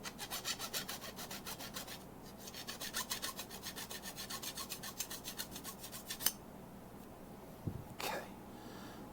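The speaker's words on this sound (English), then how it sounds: "I need a file to real quick clean down the burrs." A metal file scrapes burrs off parts for animatronic wings, giving quiet, rhythmic back-and-forth rasping strokes for about six seconds, followed by a couple of light knocks.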